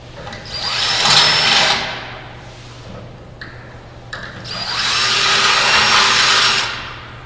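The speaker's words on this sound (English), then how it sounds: "we're now going to drill two 1/2 inch holes so we can secure the subframe bracket with 1/2 inch bolts" A power drill bores two 1/2 inch holes through a metal subframe bracket in two loud, sustained whining bursts, separated by a quieter pause with a low steady hum underneath.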